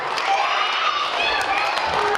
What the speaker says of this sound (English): Let's give Ryan a big round of applause